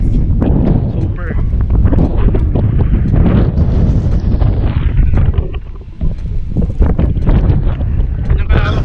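Strong wind buffets the microphone in a steady, heavy roar throughout on an open property in Tagaytay, with a voice faintly audible underneath.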